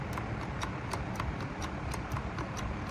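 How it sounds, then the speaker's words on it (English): A Bissell vacuum cleaner's switch clicks repeatedly, with sharp, evenly spaced ticks over a steady low hum in a garage. "I can hear the switch."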